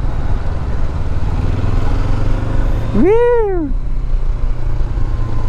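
A 2024 Honda NX500 500cc motorcycle rides in second gear, its steady engine and wind roar filling the whole stretch, with one short whooping voice partway through.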